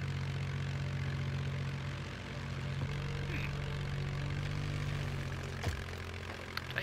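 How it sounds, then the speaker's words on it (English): A propeller airplane drones past in a video game, a steady loud engine hum holding throughout with faint clicks and game effects layered over it. "Here comes the plane."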